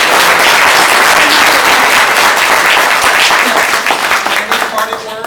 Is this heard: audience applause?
yes